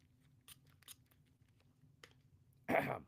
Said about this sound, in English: that's my dog chewing her chew stick